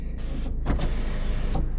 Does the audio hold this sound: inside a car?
yes